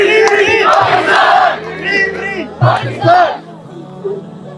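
A crowd chanting Free Pakistan slogans at a Save Gaza rally at D-Chowk, Islamabad: loud massed voices rising and falling in bursts of shouted chant, close and dense.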